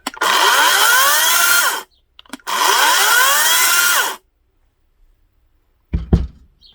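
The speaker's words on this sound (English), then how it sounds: "we'll just give it a quick run, make sure everything's good" An Ozito PXC 36-volt cordless chainsaw revs in two loud bursts of whining motor, each spinning up and winding down, followed by a brief clunk.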